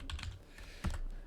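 Quick bursts of typing on a computer keyboard, a few close, crisp key clicks in a short flurry.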